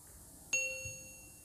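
A notification bell strikes one clear ding that rings bright and sustained, then fades slowly over a quiet background.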